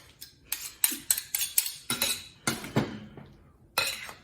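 A spoon clinks sharply against a dish while cream cheese is stirred during a cooking demonstration, with a series of close, bright taps in an uneven rhythm and brief pauses between them.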